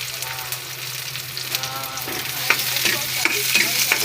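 Chicken and baguio beans sizzle steadily in a hot pan as a utensil stirs and scrapes, with small crackles and clicks over the continuous frying hiss.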